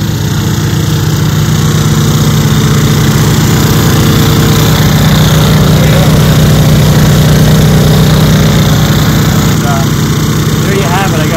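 Two Honda EU2000 inverter generators run together in eco mode, a loud, steady engine drone with an even hum that holds without a break throughout.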